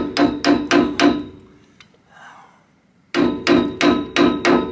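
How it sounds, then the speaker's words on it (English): A mallet tapping a bearing race into its seat in a trailer hub, with two bursts of five sharp, ringing metallic strikes in an even rhythm, close and loud, split by a brief quiet gap. "Choke up on your mallet a little bit."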